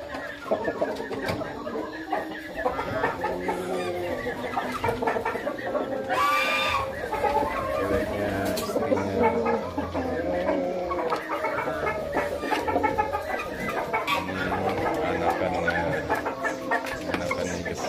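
Hungry Shamo roosters cluck and call continuously at close range, with overlapping bird calls and a voice talking over the flock.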